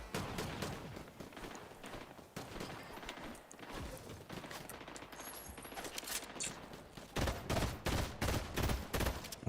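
Rapid pistol gunfire in a Call of Duty video game, a dense run of sharp repeated shots, some in quick bursts, loud and steady across the whole stretch with no talk over it.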